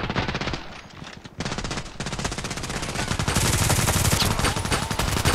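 Glock 18 automatic pistol firing in the shooter game Contract Wars, rapid continuous bursts of gunfire with a short gap, then sustained full-auto shooting, loud and close.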